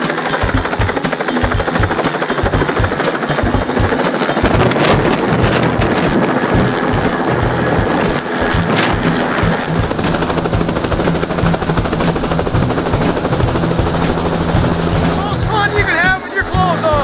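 Helicopter landing on a truck-mounted helipad that carries water and jet fuel, a loud steady rotor roar with rapid chopping blade thumps and wind buffeting on the microphone throughout.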